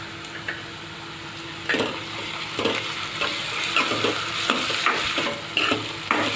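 Onion frying in oil in a pan with ginger-garlic paste for sukka mutton, a soft steady sizzle broken by several scraping stirs of a spoon, close and without talk.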